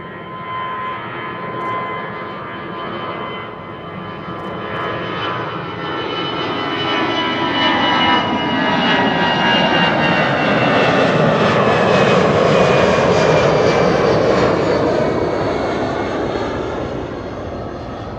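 An EasyJet Airbus A319 jet departs Amsterdam Schiphol, its engine roar loud and steady, swelling toward the middle and holding strong as it climbs past, with a high turbine whine over a broad rushing rumble.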